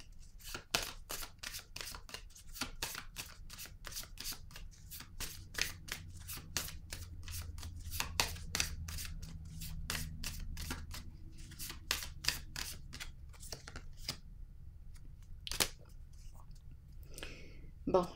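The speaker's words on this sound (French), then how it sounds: "Je vais piger une autre carte ici." Tarot cards drawn and shuffled by hand, a run of crisp, rapid papery flicks and taps close to the mic, with a soft low murmur beneath, ending in a few scattered card slaps.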